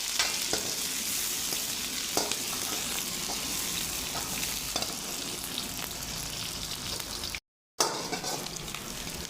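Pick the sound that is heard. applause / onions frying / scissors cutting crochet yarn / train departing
onions frying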